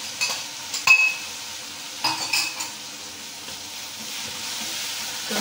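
Ginger-garlic spice paste fries in a pan for a snake gourd dish, giving a soft, steady sizzle. A spoon stirs it, adding a few scattered scrapes and clinks against the pan.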